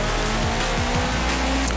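Old racing car in Forza Horizon 4 driving with a steady loud engine drone, rising and falling revs and a touch of tire squeal, continuous and close throughout.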